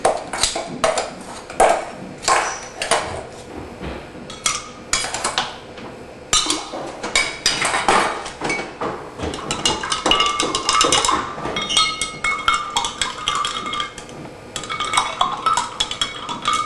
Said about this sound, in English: I am now going to put an ice cube and a frozen cabbage into